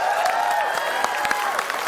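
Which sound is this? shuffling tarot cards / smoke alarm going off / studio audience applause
studio audience applause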